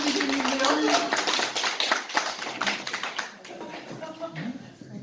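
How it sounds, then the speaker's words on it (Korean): Audience at a Won Buddhist mind-study lecture claps in a dense burst that gradually thins and fades, heard under ongoing talk from the lecturer. "원하시면 박수 한번 보내주세요."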